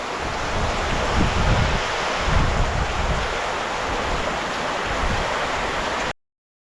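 Strong wind roars in gusts over a constant wash of heavy monsoon rain in a Konkan village, loud and close, before the sound cuts off abruptly.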